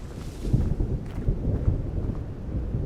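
Video game thunderstorm in Vintage Story: low rumbling thunder rolls beneath a steady wash of rain and gusting wind, continuous and fairly close.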